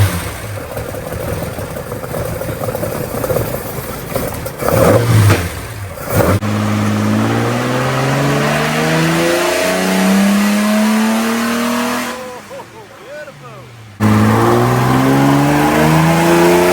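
A re-tuned Valiant Pacer engine revving hard, with loud rising and falling sweeps through several throttle blips, a brief drop toward idle, then another strong rev. The engine is close and dominant, with no voices.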